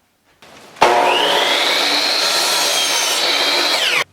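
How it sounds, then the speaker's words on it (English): A power saw cuts wood for a board and batten wall in a home shop: a brief low whir spins up, then a loud, steady whining cut holds for over three seconds before stopping abruptly. "We're going to cut some wood and we're going to start putting it together."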